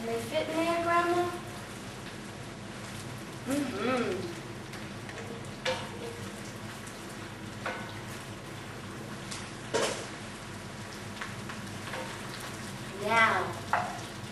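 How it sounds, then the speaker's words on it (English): Onions crackle and sizzle in a hot iron pot, a steady frying hiss with intermittent louder pops and stirring, while people talk nearby. "Just hear it sizzle. Get those onions in there."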